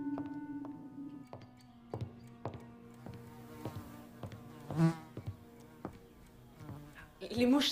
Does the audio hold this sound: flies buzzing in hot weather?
yes